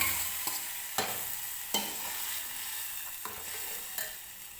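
Cooked moong dal thinned with a little water going into a hot tempering, a continuous close sizzle broken by several sharp ladle knocks and stirring clinks.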